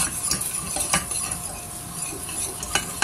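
Béchamel sauce being stirred in a pan just after flour goes into melted butter, with a utensil scraping and clinking against the metal in a few sharp knocks over a steady faint background hiss, no voices.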